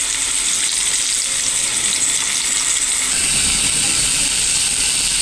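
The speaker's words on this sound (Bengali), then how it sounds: "এখন আমি ভেজে নেব মাছগুলো।" Poa fish sizzle and crackle in hot oil in a pan, a loud, steady frying hiss that continues without pause from start to finish.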